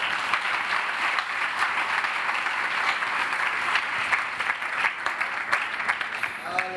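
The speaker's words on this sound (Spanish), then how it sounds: "Dale un aplauso a Cristo." A congregation at a church service applauds steadily and at moderate volume, sustained clapping with no gaps from start to finish, before a voice comes in at the very end.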